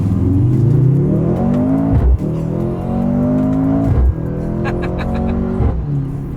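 A 2025 Mercedes-AMG GLC 43 SUV accelerates hard from a standstill in first gear, its engine revving loudly and climbing steadily, with two quick gear shifts briefly cutting the roar before it builds again, close and continuous.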